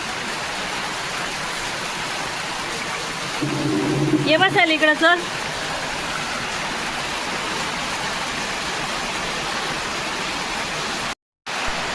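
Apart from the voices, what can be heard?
rain drumming on a metal sheet roof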